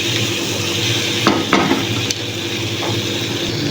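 Leftover tuna, garlic and onion sizzling in a hot pan as the base for a Filipino mung bean stew, with steady frying hiss and a few scraping stirs of a utensil against the pan.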